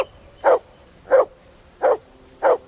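Four evenly spaced, mid-pitched barks come from a dog in the Kingdom Come Deliverance 2 video game, each short and clear, close by, with quiet gaps between them.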